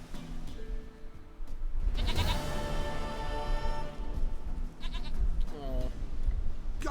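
A goat bleats in The Witcher 3 video game, several wavering bleats at close range over steady in-game ambient background sound.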